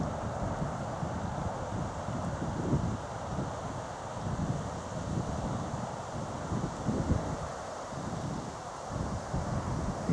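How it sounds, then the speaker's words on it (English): Wind buffets the microphone outdoors on a countryside walk near old brickyards, a steady rushing roar that swells in gusts and never lets up. "Wind's picking up ahead of tomorrow's pretty strong winds"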